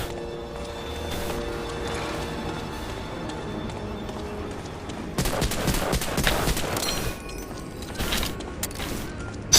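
Rapid bursts of machine gun fire in a Medal of Honor video game, a dense crackling volley under steady game noise that thickens midway and holds for several seconds.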